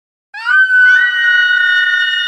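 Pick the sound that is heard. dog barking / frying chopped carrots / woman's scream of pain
woman's scream of pain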